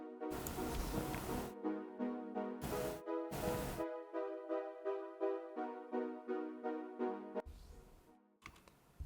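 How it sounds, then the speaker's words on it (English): A synthesizer saw wave stacked with 16 unison voices on a strings preset plays chopped chords in short rhythmic pulses on each beat, bright and sustained, broken by a few louder bursts of other sound. "But it's literally a saw wave with 16 unison"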